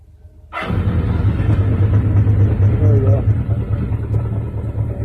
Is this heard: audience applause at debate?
no